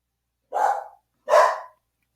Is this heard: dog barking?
yes